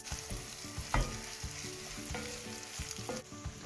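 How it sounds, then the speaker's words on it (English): Beef sealing in a hot pan with browned onions, a steady sizzle close by with occasional stirring clatters and scrapes, no voices. "We're going to seal that for about 7 to 10 minutes, just until our beef has browned off all the way around."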